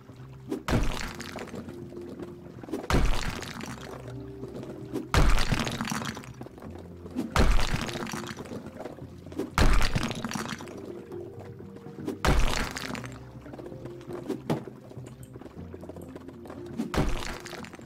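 Walls are smashed apart in House Flipper, with loud repeated crashing impacts every two to three seconds, each a sharp crack followed by crumbling debris, with a steady background hum between hits.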